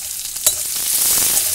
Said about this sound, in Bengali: ভালো করে পেঁয়াজটা নাড়াচাড়া করে ভেজে নিলাম